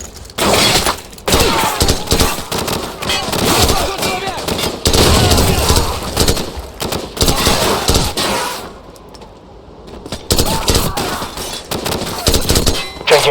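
Call of Duty 4 battle: a frag grenade blast and heavy automatic gunfire crackle almost nonstop, loud and close, dipping briefly near the end before the shooting resumes.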